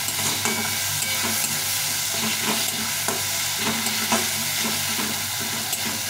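Ginger-garlic paste frying in a pan for street-style ghugni, with a steady loud sizzle and repeated scraping strokes of a spatula stirring throughout, no voices.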